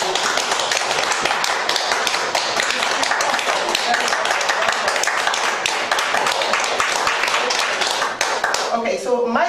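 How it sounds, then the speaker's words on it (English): Audience applause at a book launch for a poetry collection, dense steady clapping from many hands filling the room, loud and continuous, fading with a few scattered claps at the end. "Please, can we give him a round of applause?"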